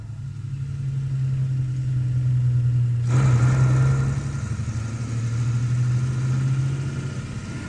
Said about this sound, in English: A heavy-duty 4 and 4x2 Zugmaschinen tows the all-important liquid oxygen fuel container.